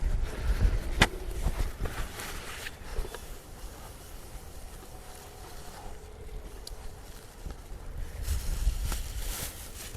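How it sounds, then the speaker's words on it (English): Gusty wind buffets the microphone outdoors, with rumbling bursts rising and falling around a steady whoosh. "Dealing with quite a bit of wind here."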